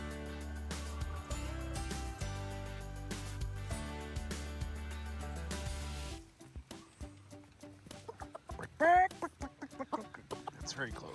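Chickens cluck in a coop, a scatter of short clucks and calls amid background clatter and movement, with people talking nearby and one loud squawk-like burst near the middle.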